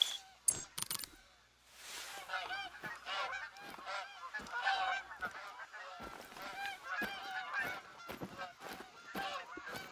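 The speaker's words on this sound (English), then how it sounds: "Geese." Repeated goose honks in theHunter: Call of the Wild, several birds calling in quick irregular bursts, with clicking mechanical sounds and faint talk beneath.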